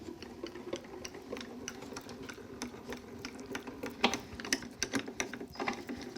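A hand-cranked die-cutting machine rolling card through a detailed die, a quiet, continuous train of small ticking and ratcheting clicks up close, with slight bumps as it turns.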